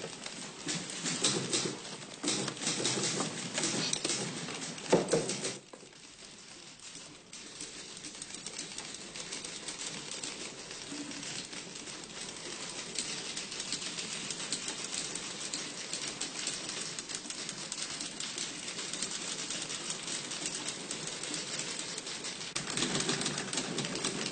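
Typing on a typewriter in an office scene from a classic German film, heard as a dense, steady run of rapid keystrokes with a brief lull partway through, fairly close and continuous throughout.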